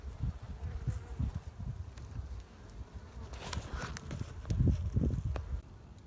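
Honeybees buzz around a hive at a beekeeping apiary, faint low droning hums rising and falling as insects pass close, with some soft thumps and handling noises mixed in.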